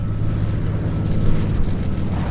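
Light aircraft rolling out on the runway after landing at EAA AirVenture Oshkosh 2019, a steady, fairly loud engine and propeller drone holding level throughout with no talk.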